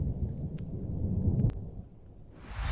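Thunderstorm in the video game Matching Moments: a low continuous rolling rumble of thunder with a couple of sharp cracks, fading slightly before a hiss of wind or rain rises at the end.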